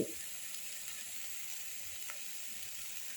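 Bitter gourd sautéing with turmeric, sambar powder and other spices in a pan gives off a steady, faint sizzle throughout, with a soft higher-pitched hiss and occasional light stirring scrapes.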